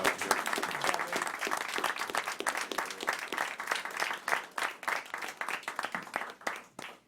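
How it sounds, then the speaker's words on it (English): A school board meeting audience applauds honored students, a dense, sustained burst of many hands clapping with distinct sharp claps throughout, fairly loud and continuous before tapering off at the very end. "Let's give them a round of applause."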